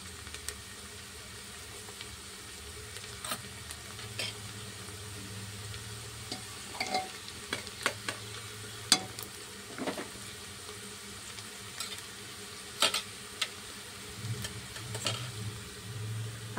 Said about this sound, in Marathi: आणि हे टाकली आहे मी याच्यामध्ये मोहरी।